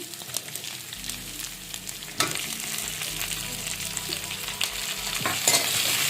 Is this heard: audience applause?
no